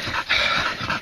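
Hunting dogs after a possum hunt in scrubby bush near Christchurch, panting heavily with a rough, low growl, a close and loud breathy sound lasting about a second.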